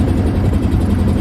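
A boat's engine drones steadily on the river Ganges at Varanasi, a loud, close, continuous low rumble with vibration and no voices.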